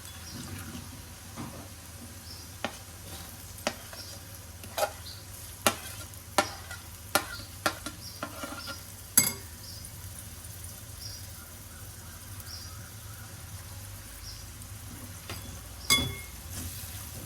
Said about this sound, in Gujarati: તો એમાં ડુંગળી આપણે સરસ એવી સાંતળી દેવા દઈશું 5 મિનિટ